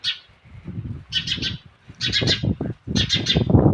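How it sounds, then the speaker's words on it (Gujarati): Shrill bursts of chirping from house sparrow chicks come in three clusters, close and lively, over low rustling and fluttering sounds. "ચકલીને બચ્ચાને રેડી દેવાનો અવાજ સાંભળો"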